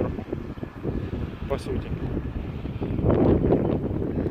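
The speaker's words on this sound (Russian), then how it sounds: "у нас ветер по крыше, поверху" Wind roars steadily over a roof and buffets the microphone, swelling louder toward the end, while a person talks underneath.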